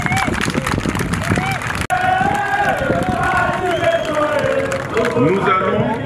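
A large outdoor campaign-launch crowd claps and cheers in a dense roar of applause and shouting, with voices mixed through it and one sharp click partway through.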